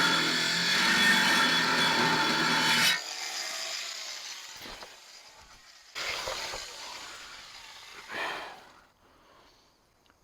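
An angle grinder bites into the steel of an old hot water heater in loud rasping bursts, then stops; shorter, fainter passes follow amid quiet gaps.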